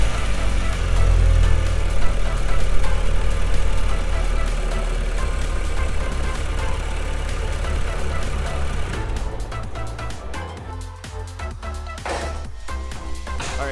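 VW MK6 Golf R with its 2.0T engine running after new spark plugs go in, a steady mid-low idle rumble filling the first nine seconds, then easing back to a quieter, thinner hum with faint knocks.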